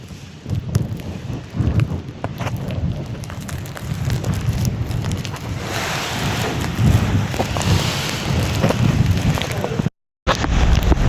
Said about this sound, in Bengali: আর দেখতেই পাচ্ছেন প্রচণ্ড বৃষ্টি।